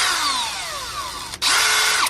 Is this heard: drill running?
yes